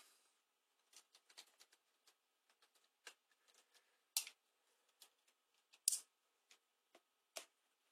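An HTC One phone being unboxed, with faint scattered ticks, clicks and light scrapes of packaging and plastic, sparse and irregular against near silence.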